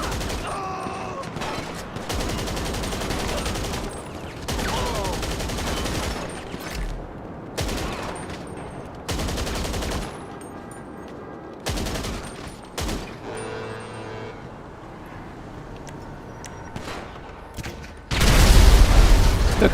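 Rapid bursts of automatic gunfire in GTA 5 Online empty a magazine, loud repeated volleys separated by short pauses, ending in a heavier booming burst, with a voice talking in between.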